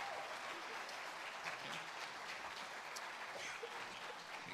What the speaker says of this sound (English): Applause for our soloist.